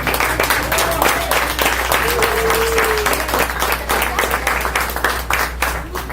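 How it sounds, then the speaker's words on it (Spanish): Church congregation claps vigorously and continuously, a dense, close applause with rhythmic beats and a brief whistle-like tone mixed in, lasting throughout. "es un aplauso para el Señor que sea con fuerza"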